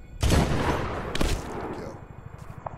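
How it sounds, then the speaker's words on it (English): Incoming mortar fire in the 2010 PC game Medal of Honor: two heavy booming blasts about a second apart, close and loud, followed by a fading rumble. "Mortar inbound"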